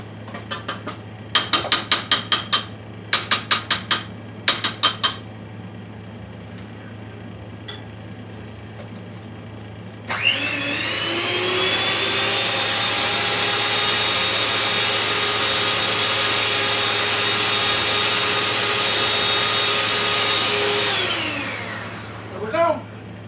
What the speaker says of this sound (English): This mixer don't always get the sides real well.